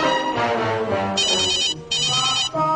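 A telephone rings at home in two short electronic trilling bursts, close and loud over a bed of background music and noise, with a brief gap between the rings.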